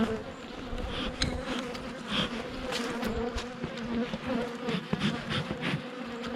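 Many bees buzz close by in a dense, droning swarm, the hum rising and falling steadily throughout.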